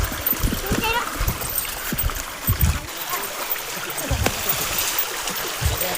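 Clear mountain stream water flowing and splashing at Handuan Falls in Clark, Pampanga, as people wash laundry by hand on the rocks; steady rushing water with irregular close splashes and slaps, occasional voices in the background.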